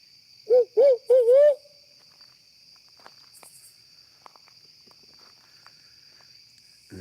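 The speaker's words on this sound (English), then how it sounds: "this owl. I'm assuming it's a young booger because he keeps messing his call up." A juvenile owl gives three quick hoots in a row, loud and near, then falls silent, leaving a steady drone of crickets and insects in the night with a few faint rustles.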